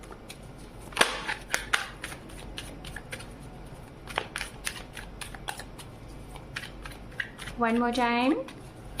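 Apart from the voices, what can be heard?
shuffling tarot cards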